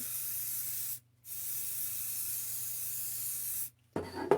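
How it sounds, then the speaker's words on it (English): Spray coating is misted onto handmade farmers' twine coasters in steady aerosol bursts: one short hiss, a pause, then a long sustained spray that cuts off, followed by a brief clatter. The sound is close and there is no talking. "So I'm just going to spray them."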